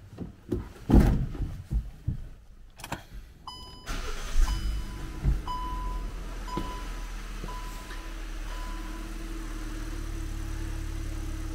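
A car engine cranks and catches while a battery tester checks the starter, with clicks and handling noises first, then a short crank, a firing start and a steady low idle hum.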